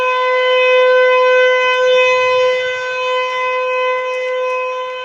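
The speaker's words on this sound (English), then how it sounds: "there's something about hearing the sirens go off that just scares the crap out of you." Tornado warning sirens wail in a steady, sustained tone that slowly swells and fades slightly, loud and alone with faint low background rumble.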